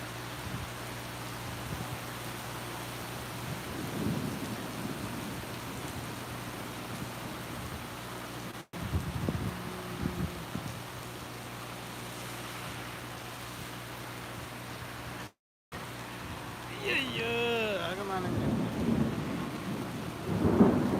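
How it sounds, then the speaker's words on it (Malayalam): Heavy rain falling steadily in Palakkad, a constant hiss of downpour with several low thunder rumbles, fairly faint overall and heard without any voices. "ഇവിടെ പാലക്കാട് നല്ല മഴ ഇപ്പോൾ"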